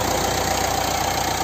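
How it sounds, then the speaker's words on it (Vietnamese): A 2016 Mitsubishi Triton SX diesel pickup, manual with four-wheel drive, idling smoothly with a steady, loud, close engine hum and a faint rhythmic clatter underneath, with no talking. "Vâng, đây là tiếng động cơ đang hoạt động đây"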